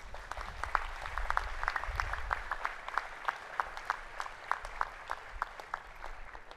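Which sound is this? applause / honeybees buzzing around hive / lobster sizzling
applause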